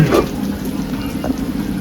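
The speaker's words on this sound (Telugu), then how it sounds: "ఓకే బాగా తెరులుతుందండి" Water boils steadily in a pot for pulao, a continuous close bubbling and seething with no voices.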